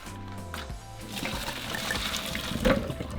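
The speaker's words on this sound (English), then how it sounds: "drain them from the water" Water drained from a cooking pot pours and splashes steadily, gushing out in a continuous stream with a louder slosh near the end.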